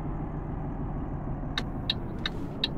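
A heavy truck engine runs steadily at low revs while driving in Euro Truck Simulator, a continuous droning rumble with a few faint short clicks toward the end.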